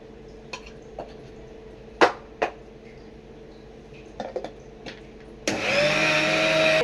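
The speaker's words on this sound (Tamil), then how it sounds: "அதோடைய மிளகாத்தூளையும் போட்டு அரைச்சிக்கணும்." An electric mixer grinder grinds spices with home-made chili powder. Scattered knocks and clatters come first, then the motor bursts into a loud, steady whirring whine for the last second and a half.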